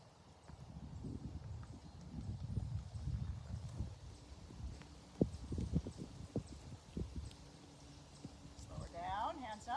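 Horse hooves clip-clopping during a riding lesson in an arena, a steady rhythmic thudding at moderate distance under an instructor's spoken directions, with occasional louder footfalls.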